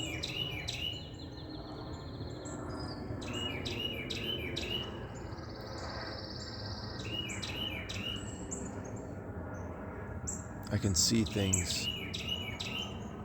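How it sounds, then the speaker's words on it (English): A bird repeatedly calls loudly and close by in bright chirping bursts over steady outdoor background noise, while a person says a few words. "That is a loud bird."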